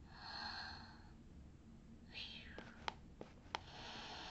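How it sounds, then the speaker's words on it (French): Soft recorded breathing from a soothing plush toy, a slow hushed in-and-out whoosh with a couple of faint clicks, quiet and close, heard alone with no talk. "On a un son de respiration."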